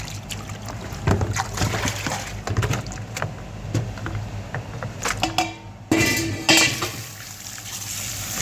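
Otazi leaves are washed by hand in water to remove sand, giving close splashing and sloshing with repeated rustling and knocking against a container.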